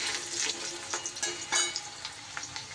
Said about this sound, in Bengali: এইবার এই বড়া ভাজার তেলে কেটে রাখা আলুটা দিয়ে দিচ্ছি।